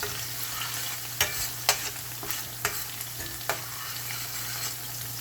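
Scallion sautéing in a pan for Jamaican-style cucumber and saltfish: a steady background sizzle broken by about half a dozen sharp spatula scrapes and knocks against the pan.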